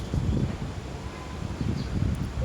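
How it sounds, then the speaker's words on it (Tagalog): Strong wind gusts rush steadily over a sunlit yellow rose plant outdoors, a loud low buffeting roar with leaves rustling throughout and no voices. "ang lakas ng hangin ngayon"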